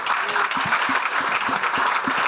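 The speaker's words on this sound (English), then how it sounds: "Give them all a round of applause." Audience applause for a panel at an opening plenary of a leaders conference, steady dense clapping from a crowd filling the room, with a few low voices or thumps beneath.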